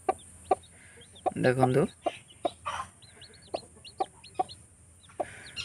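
Chickens on a farm cluck and chatter, with a louder burst of calls near the start and scattered short clucks after, while someone talks in between.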